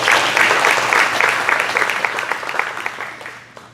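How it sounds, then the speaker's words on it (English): Applause at a high school football QB club gathering, honoring a coach's hall of fame induction, dense clapping that gradually thins and fades toward the end, with faint room voices underneath. "give him a round of applause for that"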